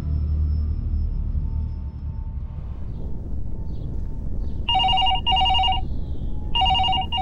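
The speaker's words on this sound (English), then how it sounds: "he misses Katsiroubas' latest call." A cell phone rings with an incoming call, two bursts of a double electronic trill coming through over a low rumbling background, with a pause between the rings.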